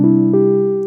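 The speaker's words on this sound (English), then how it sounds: "It's just a triangle wave going through a filter with a little bit of envelope." A simple synth tone, a triangle wave run through a filter with a light envelope, sustains steadily at close range with a soft re-attack about a third of the way in, alone and without talk.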